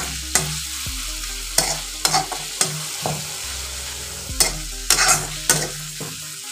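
A spoon stirs salt into boral fish curry in a pan, giving several sharp scraping and clinking strokes in irregular bursts over a low sizzle, with no voices.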